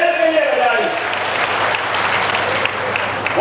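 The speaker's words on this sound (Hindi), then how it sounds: "जोरदार ताली आप अपने शहर के लिए बजाई।" Loud applause from a crowd at a political rally in Chhindwara, people clapping for their city, steady dense clapping with voices mixed in underneath.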